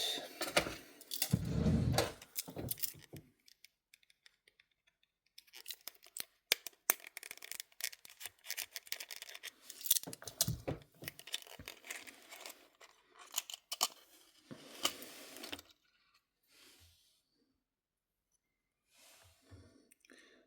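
A knife cuts open the plastic wrapping around diecast model car parts, heard close up as sharp crinkling and slicing scratches in irregular bursts, with quiet gaps between them.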